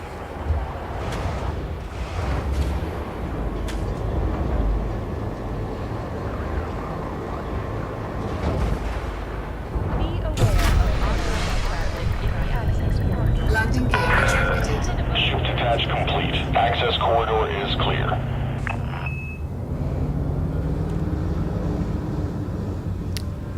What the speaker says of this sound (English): I'll shut up for a second, and we can hear the new traffic